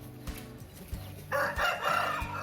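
A fighting rooster crows loudly in a single drawn-out call that starts partway through, preceded by a few dull thumps and low background rumble.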